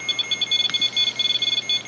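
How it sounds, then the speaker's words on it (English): A ghost-hunting device's proximity alarm sounds a rapid, continuous string of high electronic beeps, close and steady, with a faint room background behind it. "that's a proximity alarm"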